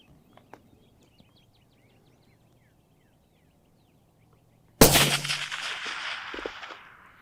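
After a quiet stretch with faint bird chirps, a single loud rifle shot aimed at a 500-yard target cracks close by and rolls off in a long echoing decay, with a faint distant knock following.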